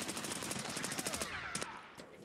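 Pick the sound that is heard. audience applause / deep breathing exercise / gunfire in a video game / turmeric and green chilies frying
gunfire in a video game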